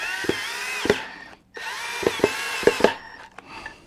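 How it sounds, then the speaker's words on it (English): A power drill drives screws into wood in short whirring bursts, two longer runs broken by a pause, with sharp knocks and clicks between them, close and clear. "go ahead and put those screws in"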